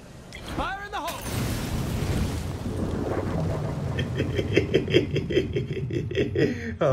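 A grenade in the zombie-survival game State of Decay 2 goes off with a deep, rumbling boom that swells and lingers, followed by a steady roar of debris, while someone talks and chuckles over it.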